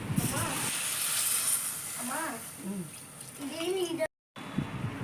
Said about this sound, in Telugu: ఇందులోకి 1 గ్లాస్ దాకా వాటర్ పోసుకోవాలి